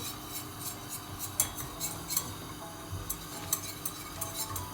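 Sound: roasting butter and flour in a pot for lentil soup

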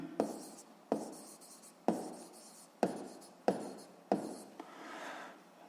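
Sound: writing out calculations

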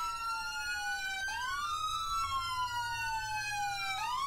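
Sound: voice imitating an emergency vehicle siren

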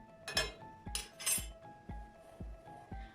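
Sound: teaspoon taken out of a teapot, clinking

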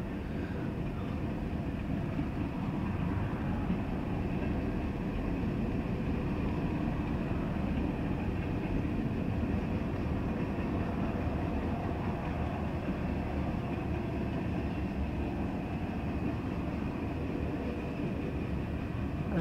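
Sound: CSX manifest freight train passing

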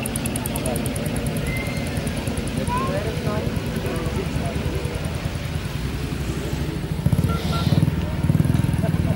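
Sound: WWII Bedford truck with 6-cylinder petrol engine

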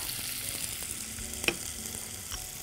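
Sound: onion frying in a pan, seasoned with salt, pepper, thyme

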